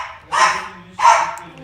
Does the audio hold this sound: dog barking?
yes